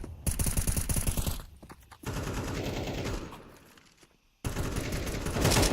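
Rapid automatic rifle fire rattles in close bursts during a Counter-Strike pro match, with sharp clustered shots separated by short pauses and a final flurry, no talk over it.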